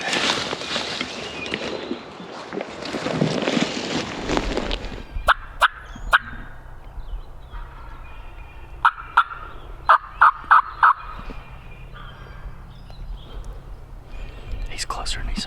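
A wild turkey gobbler on public land gobbles several times in the distance, in short bursts, after a rustling, breathy start with faint whispering.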